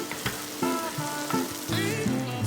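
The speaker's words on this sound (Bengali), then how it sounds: "এবার এগুলোকে একটু ভালো মতো নাড়াচাড়া করে নেবো" Onions, tomatoes and green chillies sizzle steadily in a pan for butter chicken, with spoon stirs and scrapes breaking through the continuous close frying hiss.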